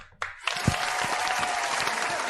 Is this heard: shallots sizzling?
no